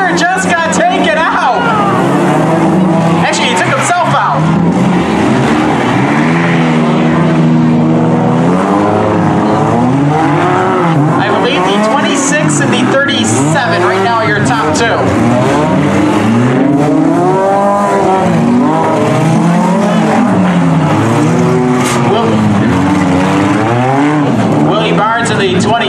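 Race cars, among them a small Acura, run a figure 8 heat at a 2018 destruction event, their engines and tires roaring and squealing at a distance beneath continuous, excited commentary.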